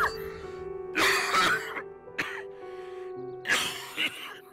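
An older man, a father in a TV drama, coughs repeatedly in short harsh bursts with throat clearing between them, close and fairly quiet, with brief pauses.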